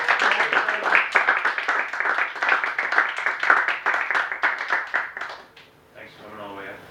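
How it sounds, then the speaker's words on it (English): A small group claps in a short round of applause at a talk on disability, the claps steady and fairly close for about five seconds before fading, with a voice speaking at the end. "Second round of applause."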